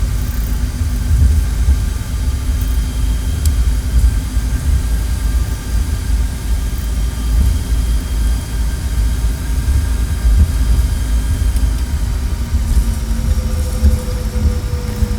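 Bombardier CRJ200 jet engines from a flight simulator soundpack produce a constant, loud, steady roar with a droning whine and no breaks or talk.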